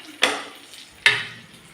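Food frying in a pan, two separate loud bursts of sizzling, each flaring up suddenly and fading over about half a second, heard up close with no talk.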